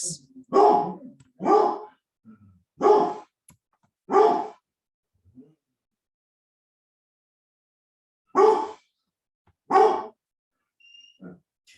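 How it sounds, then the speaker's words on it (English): A dog barks in separate bursts, about seven sharp barks spaced across the clip with a long quiet pause in the middle, fairly close and loud. "Excuse the barking."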